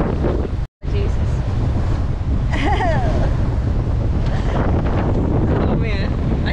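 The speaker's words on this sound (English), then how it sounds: "Our concerns about missing the morning winds were unfounded, with the sailing gods rewarding us for helping Lulu" Strong morning wind roars across a sailboat at sea, a loud, steady rush of wind buffeting the microphone with water noise beneath, while people talk faintly over it.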